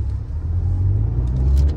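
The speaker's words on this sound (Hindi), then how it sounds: "चलो अब मैं ड्राइविंग सीट पर आ गया हूँ, थोड़ा मैं एक्सेलेट करके देखता हूँ" A Tata Altroz hatchback's engine accelerates from the driver's seat, a steady close low rumble that swells slightly as revs build, heard alone inside the car.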